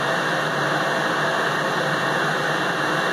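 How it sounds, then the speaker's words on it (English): A phase converter and fans run in a machine workshop, a steady, loud broadband hum and whoosh with a constant drone and no pauses, with no one speaking. "the phase converter and the fans are a little bit loud"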